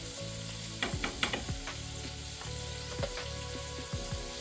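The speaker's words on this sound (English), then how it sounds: "Back to the bacon. It is starting to render already really well." Bacon sizzles and renders in a pan for carbonara, a steady crackling fry broken by several sharp scraping stirs and utensil clatters, close and moderately loud with no talking.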